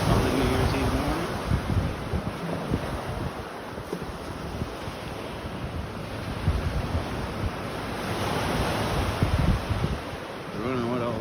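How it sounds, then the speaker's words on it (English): Steady surf rolling onto a Gulf of Mexico beach at early morning, a continuous broadband wash with wind buffeting the microphone and swells rising and falling in loudness. "Thanks for checking out the beach here on this early New Year's Eve morning."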